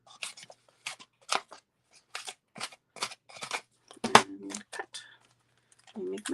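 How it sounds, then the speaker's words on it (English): Scissors snipping paper scraps for a stamped tulip greeting card, a series of short crisp cuts in an irregular rhythm, close and fairly loud, with a voice briefly speaking near the end. "So I just take my scissors."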